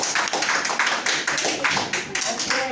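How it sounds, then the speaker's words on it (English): Applause from a classroom of students, a dense continuous patter of many hands clapping at close range for a few seconds, with some voices mixed in. "Give them a round of applause."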